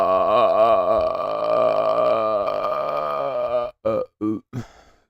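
A long, loud, drawn-out burp rumbles for several seconds up close, then ends in a few short, choppy gulping bursts.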